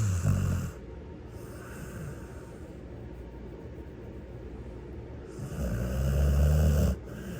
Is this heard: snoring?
yes